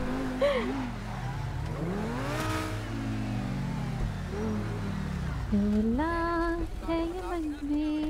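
A car in the video game GTA 5 drives with a continuous engine drone whose pitch climbs and falls as it revs and shifts, with light talk underneath.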